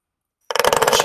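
A vibrator switched on and buzzing against a hardwood desk: after about half a second of silence, a loud, harsh rattling buzz starts abruptly and pulses rapidly as it chatters on the wood.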